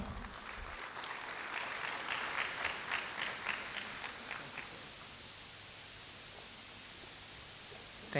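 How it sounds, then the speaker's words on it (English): An audience at a tax and compliance event applauds Neerav Shah, a soft, distant patter of clapping that swells briefly and fades into a low hiss after a few seconds. "Give a round of applause for Neerav Shah"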